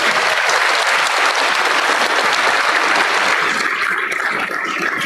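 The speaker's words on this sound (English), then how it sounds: "again a big round of applause" Loud, sustained round of applause from a large audience at a university orientation program for new first-year students, dense clapping filling the whole stretch without pause.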